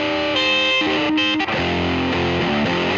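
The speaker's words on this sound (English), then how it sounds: "Roll up the distortion and roll back the level." An electric guitar plays through a modded Ibanez Sonic Distortion pedal with distortion turned up and level lowered, giving a loud, sustained, saturated tone across several held notes and chord changes, with no talking.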